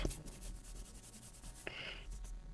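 Fingers gently rub across the surface of a handmade stamped card, a soft, close, continuous scuffing with a slightly sharper swipe near the end.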